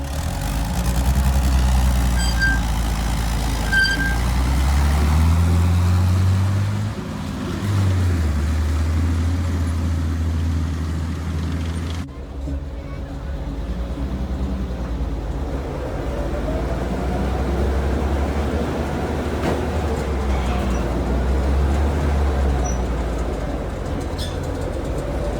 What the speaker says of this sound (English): Here you can see Hilary Doyle take a ride on Tank Hunter Stook 3 at Millitrax 2019.